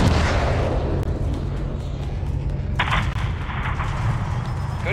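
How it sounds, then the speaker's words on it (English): A missile strike levels an aircraft hangar in Call of Duty Modern Warfare 3, a sustained loud, low rumbling blast that surges again midway with a bright crackling burst, filling the whole stretch without voices. "have your man drop a missile on that hangar"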